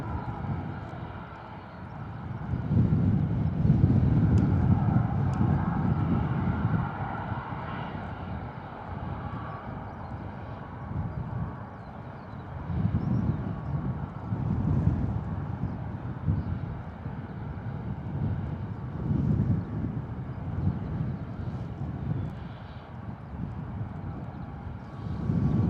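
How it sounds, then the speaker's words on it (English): EasyJet Airbus A321neo airliner lining up on runway 27 at Bristol Airport, a steady low engine rumble from a distance that swells and eases in slow waves, mixed with some wind noise and no speech. "EasyJet A321 Neo lining up on runway 27"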